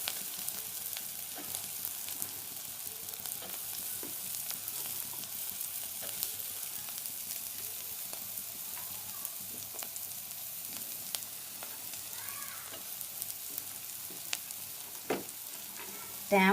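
Grated coconut and toor dal frying in a pan, a steady low sizzle with occasional scraping stirs of a spoon, close and continuous throughout.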